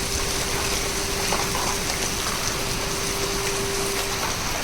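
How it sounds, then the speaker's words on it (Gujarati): Heavy rain pours down on a construction site as a dense, unbroken hiss that stays loud and even throughout, with no voices. "વરસાદ ફૂલ ચાલુ થઈ ગયો."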